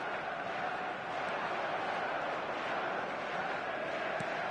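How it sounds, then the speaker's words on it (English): Football stadium crowd in the video game eFootball, a steady broad roar of fans that stays at an even level and sounds fairly distant, with no clear chants standing out. "Now the crowd are demanding that they just finish this off."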